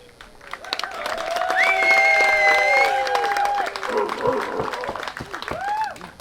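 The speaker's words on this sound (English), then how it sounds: "I would like everybody to cheer" Wedding guests cheer and applaud for the newlyweds, a swelling mix of clapping, whoops and high whistles rising then easing off, with crowd voices mixed throughout.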